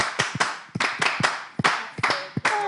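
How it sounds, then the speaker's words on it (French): Scattered, uneven clapping from a small group applauding schoolchildren, distinct bursts of hands with short gaps between them, close and fairly loud. "Mais j'ai dit applaudir, quoi, applaudir."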